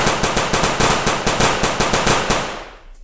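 A toy M16 soft bullet gun fires a rapid, steady burst of about a dozen loud, close shots, then stops abruptly and the sound dies away.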